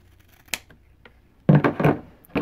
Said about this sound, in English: Now we will cut this.